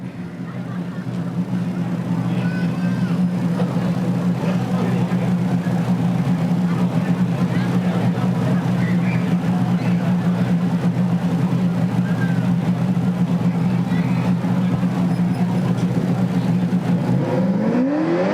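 A fire department ladder truck driving during a drill, a loud steady engine drone and road rumble that holds throughout, with a rising whine near the end.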